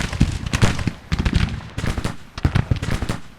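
Cannon and artillery fire in a Civil War strategy video game, a rapid series of booming, crackling blasts layered close together in an irregular barrage.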